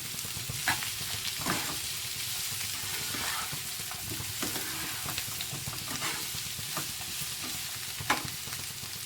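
Andhra-style radish pachadi mixture frying in oil in a pan, with a continuous crackling sizzle and regular scraping stir strokes throughout, close and moderately loud, no speech.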